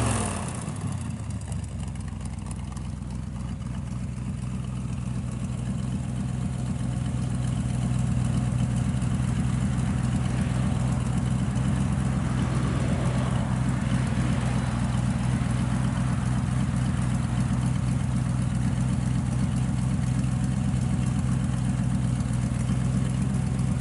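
1932 Ford three-window coupe street rod idling through mufflered headers, a deep, steady low rumble held close and loud with a slight swell in level partway through and no talk over it.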